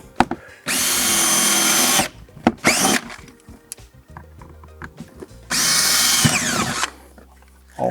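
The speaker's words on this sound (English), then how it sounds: "You're going to grab a 5/16 drill bit and then just drill through." A power drill with a 5/16 bit bores holes through the rear bed of a Polaris RZR Pro, two sustained loud whirring bursts separated by quieter handling clatter and clicks, close up.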